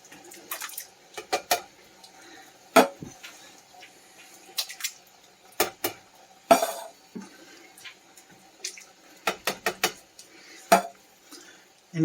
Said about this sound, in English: And you're going to want to go ahead and mix this up really well.